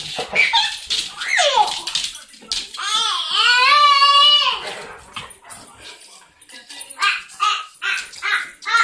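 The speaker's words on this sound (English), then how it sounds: "Get this dog." A dog barks in sharp bursts and lets out a long, rising whimpering whine in the middle, close and loud, while a person's voice cuts in between the barks.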